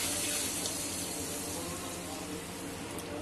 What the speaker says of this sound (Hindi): देखिए तो हमने इसमें आधा जग पानी डाल दिया